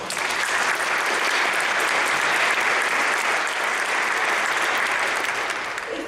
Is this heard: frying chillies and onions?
no